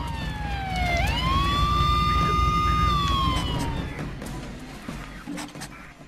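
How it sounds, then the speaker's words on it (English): In the Silent Hill Downpour video game, a police car siren wails loudly and nearby, rising in one long sustained tone that then fades away under other game noise. "I want to stop those police cars"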